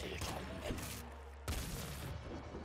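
Kraken machine gun fire from the video game Nuclear Throne, a dense, booming burst that stops briefly and then resumes loud and steady.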